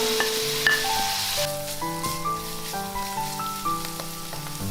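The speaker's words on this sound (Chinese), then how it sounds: "先把肉末放下去炒一下，再加入香菇、鱿鱼、生姜、葱。" Minced pork stir-fries with mushroom, squid, ginger and scallion in a steady, close sizzle, under soft background music, with no talking.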